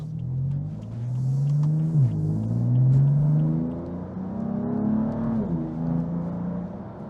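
A BMW M4 engine revs up strongly, its pitch climbing through several gear changes with a steady rumble, heard from close by inside the car.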